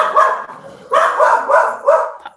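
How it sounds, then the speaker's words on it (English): A dog barks in the background, several sharp barks in quick succession, moderately loud and with no talk over them. "apologize, my dog, if you can hear in the background"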